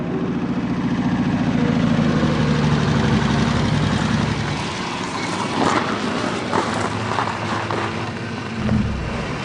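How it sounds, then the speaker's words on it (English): A truck engine idles with a steady low rumble through the first half, then fades into lighter mechanical clatter and scattered knocks at moderate distance, with no voices. "It's a truck of some kind."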